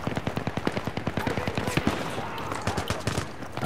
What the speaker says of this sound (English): I'm going to try out my N416. I'm going to shoot.